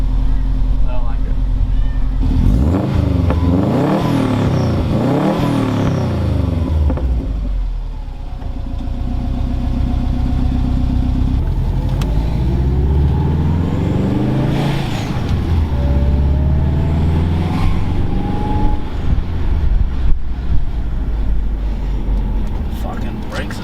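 A car fitted with a 3-inch exhaust running all the way through and mufflers drives along, its engine droning steadily and then climbing in pitch through rising revs, heard continuously from close by.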